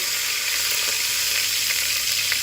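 Melted butter and a little oil sizzle steadily in a pan, a close, even hiss with no break, just before red chili powder goes in for a sauce.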